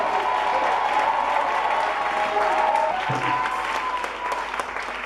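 A church congregation at a Sunday service applauding strongly, a steady wash of many hands clapping with a sustained tone beneath, easing off toward the end.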